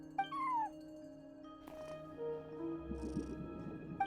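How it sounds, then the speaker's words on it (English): A cat in a video game, keeping watch over a front desk, gives a short rising-falling meow, then a quieter second call over a faint game ambience with soft tones. "No one except for a cat watching over the front desk."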